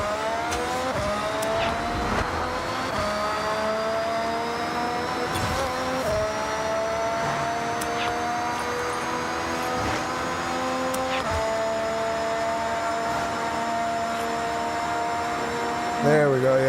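Mercedes-AMG car in Forza Horizon accelerating hard toward 200 mph, a sustained engine whine climbing steadily in pitch through gear changes, loud and continuous throughout.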